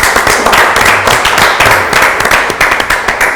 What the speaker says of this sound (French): Alors on l'applaudit parce qu'on est content de le voir